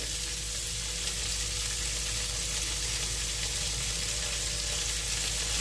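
Drumstick flowers and buds fry in ghee, giving a continuous, even, close sizzle with a soft bubbling hiss and no voices.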